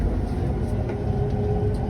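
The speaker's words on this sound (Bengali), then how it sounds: "এখন তো মনে হয় মেট্রো যায় একদম মেট্রো।" A low, steady rumble of a metro train running past, heavy and continuous with no voices.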